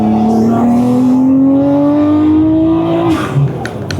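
A Nissan Skyline R34 GT-R's turbocharged engine revs toward redline, a loud close rising drone that climbs steadily for about three seconds before the throttle lifts and the pitch drops.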